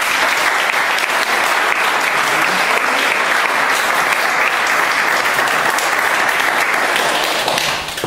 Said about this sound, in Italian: Un applauso e chiamiamo.